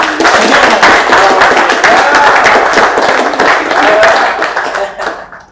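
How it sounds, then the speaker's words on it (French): Loud, close applause from an audience at a university presentation, crisp hand claps in a thick burst with a few vocal whoops rising through it, then fading out at the end. "Est-ce que ça ne mérite pas quand même les applaudissements?"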